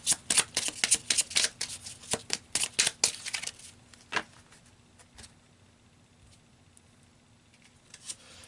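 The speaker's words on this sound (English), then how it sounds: "So let's pull a few more cards." Tarot cards shuffled by hand in a quick burst of rapid riffling flicks and slaps, close and crisp, then slowing to a few scattered card snaps over quiet, with no talk.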